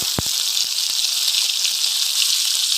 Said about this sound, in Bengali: পেঁয়াজ আর রসুন একটু লালচে করে ভেজে নেব